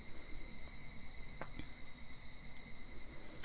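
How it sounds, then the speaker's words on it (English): Cicadas crying in the horror visual novel game Higurashi, a faint, steady high-pitched drone that persists throughout with a couple of brief clicks partway through and no speech. "Only the cry of the cicadas remained, annoyingly loud."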